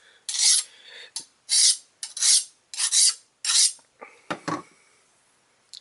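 A knife blade is drawn across the flat file of an Accu Sharp 4-in-1 sharpener in a run of about ten short, rasping strokes, close and crisp. The strokes come in a fairly even rhythm, and a couple of softer scrapes end the run.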